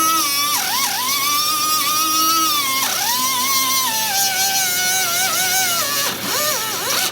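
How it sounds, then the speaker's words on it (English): Small cutoff wheel grinding through welds on a stubborn welded-on nut, a loud continuous high whine that dips and recovers in pitch as the disc bites into the metal, steady and close with no talk. "I got a little tiny cutoff wheel here. I'm just gonna cut a couple of those welds"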